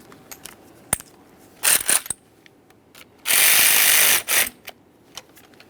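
A ratchet tightens the 10mm battery terminal nut on a 2015-2020 Ford F-150 3.5L V6, giving close, loud clicking bursts: a couple of short ratcheting runs, then a longer steady one, with scattered metallic taps.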